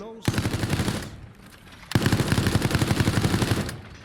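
A minigun in the Resident Evil Resistance video game fires two loud, sustained bursts of rapid automatic gunfire, a short gap between them, with no voices over it.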